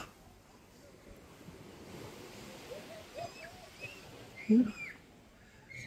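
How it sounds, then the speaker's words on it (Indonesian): Indian Ocean surf washes in below a seaside skywalk at Sabang on Weh Island, Aceh, as a steady rush of waves and wind blows against the microphone, with a louder surge and a faint bird call near the end. "Samudra Hindia guys."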